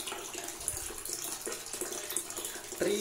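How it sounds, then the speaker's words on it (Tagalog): Dirty water runs steadily from a household tap, a continuous hissing splash with a few small knocks, at moderate volume with no voices. "Ang dumi ng tubig na lumalabas."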